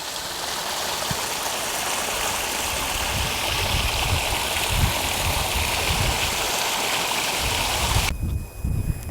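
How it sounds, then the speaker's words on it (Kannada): Water rushes steadily through a farm channel in a village plot with guava, lemon and coconut trees, a continuous near gurgling flow that holds even throughout and ends with a slight change in texture. "ನೋಡಿ ಇಲ್ಲಿ ನೀರು ಹರ್ಕೊಂಡು ಹೋಗ್ತಾ ಇದೆ ಎಲ್ಲ"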